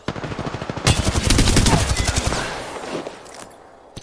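Rapid automatic gunfire from a weapon in the video game Apex Legends rattles in a long, loud burst that swells and then tails off into a fading echo.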